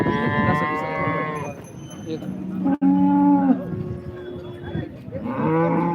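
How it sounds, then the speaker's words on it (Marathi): A freshly calved cow moos loudly and close by at a cattle market in Modnimb, several long low calls one after another, with faint background voices. "ताजी वेलेली गाय"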